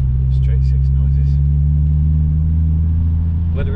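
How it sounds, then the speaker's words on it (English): A straight-six car engine drones with a deep, steady low hum while driving on a wet morning, close and constant throughout, with brief faint voices in the background. "Let's enjoy some straight six noises."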